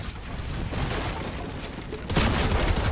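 Rapid video game gunfire during an online shooter match, a dense burst of shots that grows louder after about two seconds, with no talk.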